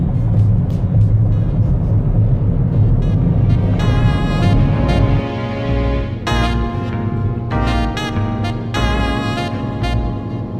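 A Ford Fiesta 1.1 drives along a winding road, a steady low engine and road rumble heard from inside the car, with several short sharp bursts of noise in the second half as it brakes.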